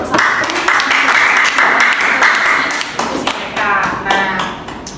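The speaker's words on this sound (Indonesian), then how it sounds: "berikan aplaus dan juga tepuk tangan untuk kelompok 1" A classroom of students applauds a presenting group, loud close clapping with sharp individual hand claps and taps, and someone speaking over it.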